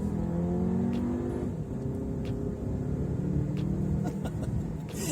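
A 2019 Volkswagen Arteon accelerating in sport manual mode, a steady low engine rumble and whir building from inside the car, with faint clicks and no speech.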